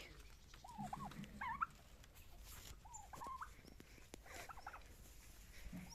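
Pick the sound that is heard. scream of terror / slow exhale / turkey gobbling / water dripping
turkey gobbling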